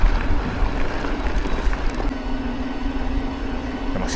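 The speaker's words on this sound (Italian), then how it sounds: "Il motore sì, rumoroso, forse, ma anche sta sprigionando un pacco di potenza." An 800 W DJI Avinox motor on an Amflow PL Carbon electric bike whirs at full power with a steady droning hum under rushing wind noise, continuous and fairly loud throughout.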